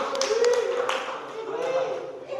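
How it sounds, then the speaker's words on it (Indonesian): Students clap in a classroom during a lesson review on thermostats, a short, loose patter of hand claps at close range with a voice talking over it. "Oke, tepuk tangan."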